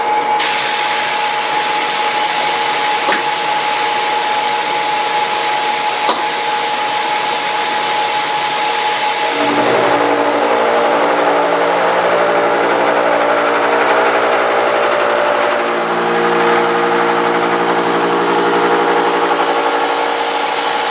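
A metal milling machine cuts a machinist vise part with a steady, loud, high whine that runs unbroken throughout, and its tone shifts partway through as the cut changes.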